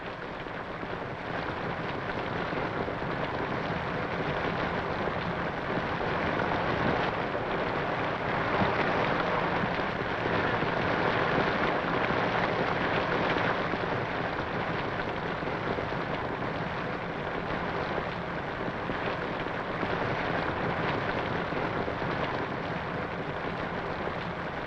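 A thunderstorm over a normally dry desert landmark in the Australian Outback: steady, dense rain pours down continuously, a heavy wash of noise with faint low rumbles suggesting distant thunder.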